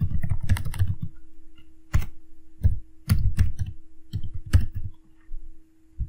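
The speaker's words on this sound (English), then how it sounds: "So let's type my email." Someone types an email address into a registration screen on a computer keyboard. Close, clear key clicks come in short clusters with pauses between them, alone over a faint steady hum.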